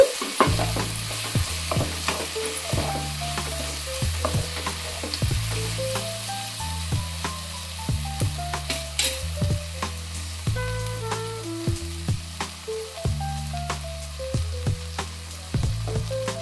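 Ginger garlic paste fries in a pan for a Telugu veg lunch, sizzling steadily close by while a utensil scrapes and stirs in a repeated rhythm, with no voices.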